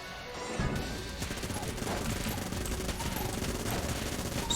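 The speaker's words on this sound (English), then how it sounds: "Seems like my Vulcan cannon is attacking faster." Vulcan cannon in Enter the Gungeon firing a dense, continuous stream of rapid shots, loud and unbroken after a short quiet opening.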